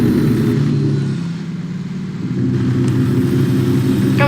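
A truck engine in American Truck Simulator drones loudly and steadily, a dense low rumble that dips briefly and then swells back up as the throttle is pushed.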